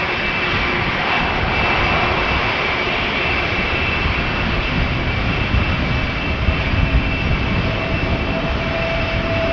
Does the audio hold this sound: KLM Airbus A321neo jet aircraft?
yes